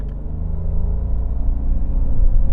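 Toyota Yaris Cross small SUV pulling away hard from a brake-boost launch, a steady low engine rumble building gradually in loudness over a couple of seconds, with no talking.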